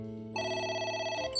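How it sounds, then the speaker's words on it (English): In the game AI The Somnium Files, a phone rings with an electronic tone, a single sustained ring burst heard faintly and alone. "Oh, and there's a phone. It's ringing again."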